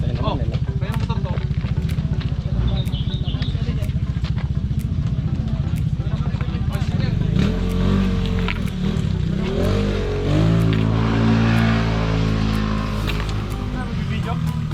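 Motorcycle engine idling and rumbling close by at a riders' meetup in Taiwan, steady low drone with a rising rev near the end, under people talking.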